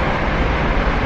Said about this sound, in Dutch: We zitten in de trein en we zijn er bijna